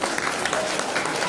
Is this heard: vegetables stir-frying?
no